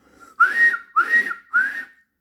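A steam engine whistle sounds three short, bright toots in quick succession, close and loud with brief gaps between, with no talk.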